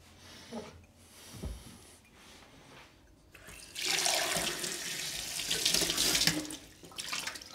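Water runs from a tap into a sink, starting as faint trickles and splashes and then becoming a loud, steady gush that lasts several seconds before easing off.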